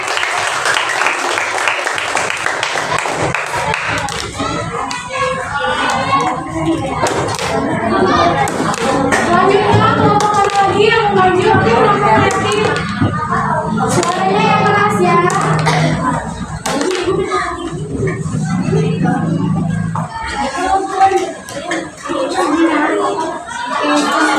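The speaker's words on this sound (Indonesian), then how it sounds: "Tepuk tangan dong untuk kelompok mandiri." Audience applause for a presenting group at an Indonesian teachers' coaching and academic supervision session, steady clapping from a room of people running on for many seconds, mixed with voices and chatter throughout.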